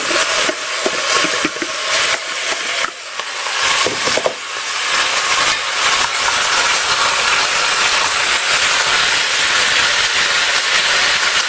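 Pork ribs and onion sizzle in a frying pan, a loud, dense, continuous hiss with a few brief crackling bursts early on, steady throughout with no talking.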